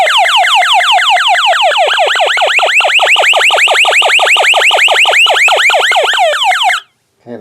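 A Spacetronic TG 105 tone generator on one setting, a loud rapidly warbling electronic siren-like tone repeating in fast sweeps for about seven seconds, then cutting off abruptly.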